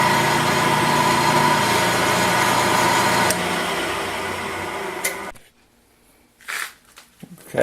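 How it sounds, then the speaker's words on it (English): A milling machine fitted with a new Niagara high-speed steel cutter, its flutes made for aluminum, cuts aluminum with a steady, loud whirring grind for about five seconds, then stops abruptly. A few faint clicks follow. "This is a brand new Niagara cutter, the high-speed steel tooth flute designed for cutting aluminum, and it's really doing a nice job."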